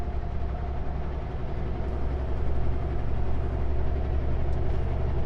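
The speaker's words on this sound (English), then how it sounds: "No engine brakes in, so it's on, so it sounds so much quieter." Truck engine running steadily in snowy winter conditions with the engine brakes switched off, a deep, continuous low rumble and drone heard from the cab at a fairly loud, even level with no talk.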